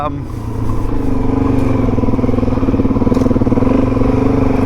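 An adventure motorcycle with a 15-tooth front sprocket revs steadily and pulls away close by on a sloppy off-road track, its engine drone continuous and loud while people talk over it.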